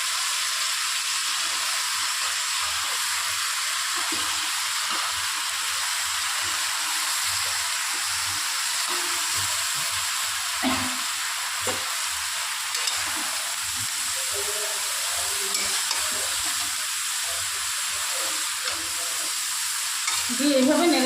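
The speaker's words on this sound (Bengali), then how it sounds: "দিয়ে এইভাবে নেড়ে চেড়ে মশলাটাকে আর চিংড়িটাকে ওর সঙ্গে ভেজে নেব।" Shrimp fries in a pan with thin-cut potatoes, snake gourd and spices, giving a steady, close sizzle and hiss while a spatula stirs with soft scrapes, growing a little louder near the end.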